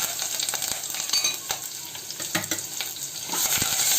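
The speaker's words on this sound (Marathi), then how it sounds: "आता हे तडतडला गॅस थोडंसं मी कमी करणार आहे आणि ही कढीपत्ता आणि लसूण मी घालते." Curry leaves and garlic sizzle and crackle in hot oil during tempering for spicy dal, with scattered pops over a steady hiss, close and moderately loud with no talking.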